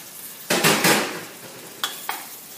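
Butter meets a hot pot on the stove, giving a close sizzling burst followed by quieter crackle and a couple of sharp utensil clinks, with no talking.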